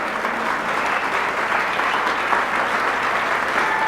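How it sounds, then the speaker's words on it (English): Audience applause at the 1993 National Radio Hall of Fame induction ceremony, a continuous, even roar of clapping from a large crowd, moderately loud and unbroken throughout. "That deserves a round of applause."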